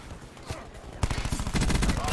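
Gunfire in a team deathmatch video game: a single shot, then rapid bursts of automatic fire that grow denser and louder, with some voice chat underneath.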